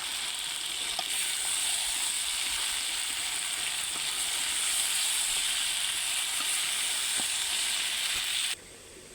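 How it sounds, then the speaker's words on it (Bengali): Spice masala frying hard in a pan with oil for a bottle gourd greens and tilapia curry, a steady bright sizzle running nearly unbroken before suddenly dropping away near the end, no talk. "মশলাটাকে ভালোভাবে কষিয়ে নিচ্ছিলাম"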